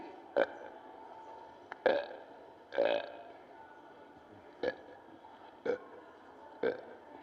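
Deliberate, forced burps during a yoga exercise for weight loss, six short separate belches spaced unevenly, fairly close and clear over a quiet background.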